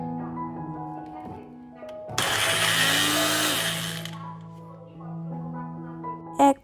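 An electric blender grinding green peas, ginger and chillies into a paste, running loud and steady for about two seconds, with a speaker talking before and after and a sharp knock at the end.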